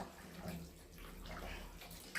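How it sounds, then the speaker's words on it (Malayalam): Short, faint splash of water poured into a pan of chicken parts curry in a home kitchen, a steady soft trickle with no voices. "അപ്പോൾ കുറച്ച് വെള്ളം ഒഴിച്ച് കൊടുക്കുക."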